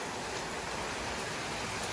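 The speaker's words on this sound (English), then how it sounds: "our first rain, like, and I mean serious rain, like, in months, literally months." Heavy rain pours down in a dense, steady hiss that fills the whole stretch, with no voices over it.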